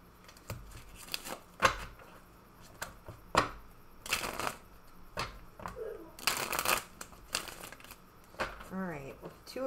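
Tarot cards being shuffled before a reading make soft riffling and slapping bursts at an uneven pace. A person talks quietly between and over the shuffles.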